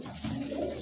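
Pigeons, among them Lahori, Bombay and satin fancy breeds, give a single soft, low coo at a dealer's stall. The sound is faint and brief, with no talk.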